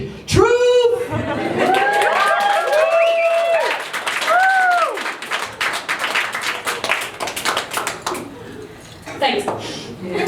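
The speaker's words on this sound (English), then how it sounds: "You were correct to clap there." Comedy show audience breaks into applause and scattered laughter, the clapping building into a broad wash in the second half as a voice talks over it.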